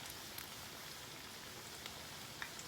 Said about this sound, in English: After a few minutes of frying, you can turn them over to the other side